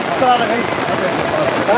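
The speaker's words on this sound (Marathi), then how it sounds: "पाऊस" Heavy downpour drumming on surfaces, a dense, loud and continuous patter with a voice faintly audible underneath.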